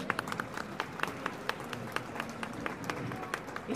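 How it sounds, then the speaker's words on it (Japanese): Audience applause rises at a street live concert in Shinjuku during a Tokyu Kabukicho Tower anniversary event, scattered claps heard fairly faint and outdoors. "大きな拍手をお願いします"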